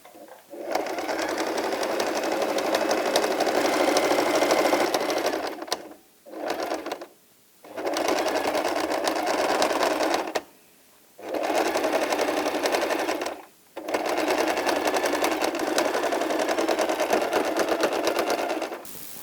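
A sewing machine stitches around fabric edges in long steady whirring runs, close and loud, stopping briefly three times between passes.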